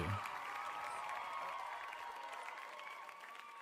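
A canned clapping sound effect plays as a steady wash of crowd applause, moderately quiet and fairly even, tapering slightly toward the end.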